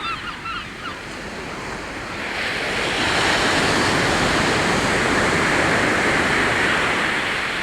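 Surf washing onto a beach as the tide comes in, a broad continuous rush of breaking waves that swells louder after a few seconds, with some wind buffeting.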